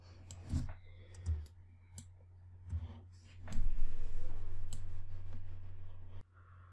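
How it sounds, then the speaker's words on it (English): Computer mouse clicked while working in Adobe Illustrator, several sharp isolated clicks close to the microphone over a steady low hum, followed by a louder stretch of soft rustling and handling noise. "Right click your mouse and group."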